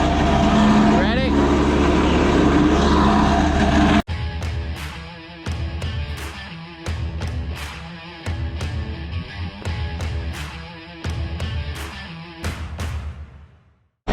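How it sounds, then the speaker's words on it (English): The shear bar on a forage chopper is being adjusted. A loud engine roar cuts off abruptly, then a run of sharp metallic clicks and knocks follows at irregular intervals before fading out. "That's what you hear right now, just getting the shear bar adjusted."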